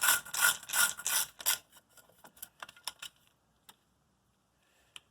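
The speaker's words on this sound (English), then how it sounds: "We'll take our screws and screw the light back in." Screws are driven in to mount a headlight on a Jeep Wrangler, with a burst of close ratcheting clicks that thin out into scattered ticks and then near silence.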